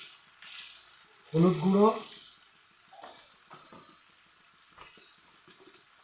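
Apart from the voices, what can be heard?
potatoes frying in a pan with turmeric and salt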